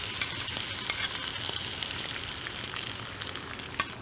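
Cowboy steak sizzling in a very hot pan with rosemary, a steady bright frying hiss with occasional sharp pops and crackles, close and alone without speech.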